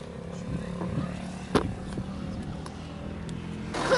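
Street traffic on a Turkish Black Sea coast town, with car engines rumbling past at moderate distance beside a sidewalk, a sharp transient midway and another vehicle swelling closer at the end.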